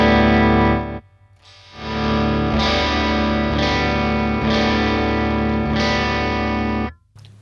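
Electric guitar through a Joyo Husky Drive overdrive pedal into a Marshall amp, playing loud distorted sustained chords after a short pause, with a few chord changes and a ringing decay at the end.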